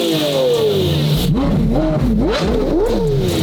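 A Lamborghini Murcielago and a second car rev together at close range, their loud engine notes climbing and dropping in repeated sweeping blips.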